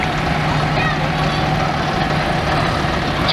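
A vintage Ford E83W drop-side pickup truck rolls past in a commercial vehicle parade at a rally, its engine giving a steady, moderately loud low drone with no break.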